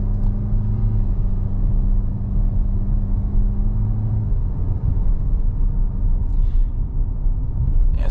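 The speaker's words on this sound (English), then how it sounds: "We'll take it up the hill here and give it a good half throttle acceleration." A 2022 Audi Q7 45 Premium with a turbocharged four-cylinder pulls uphill at half throttle, giving a steady, loud, low engine rumble with tire and road noise and a slight drop in pitch partway through, heard from inside the cabin.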